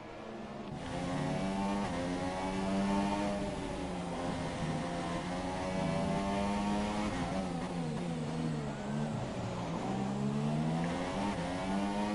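Renault race car pushed hard on track, heard from onboard: a loud, continuous engine note rising and falling through revs and gear changes for the whole stretch, with no voices.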